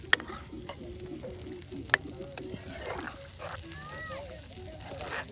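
A paste of ground ginger, onion and garlic with salt, chili and turmeric sizzles in a pan at an outdoor riverside cooking spot, faint crackling mixed with stirring clinks and scraping, and distant bird chirps in the background.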